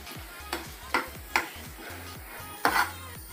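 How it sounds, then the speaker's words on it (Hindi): A spoon repeatedly scrapes and clinks against a bowl while chili powder and garam masala are mixed in, giving a series of sharp taps spaced about half a second apart over a soft low background. "इसको अच्छी तरह से एक बार मिक्स कर दीजिए।"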